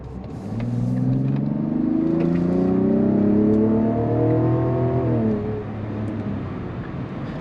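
A turbocharged Mazda engine revs up through the range, its droning harmonics climbing steadily for several seconds before the pitch drops back, heard from inside the car.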